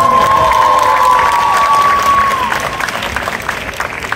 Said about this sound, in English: How about a practice round of applause so I know I have an honor.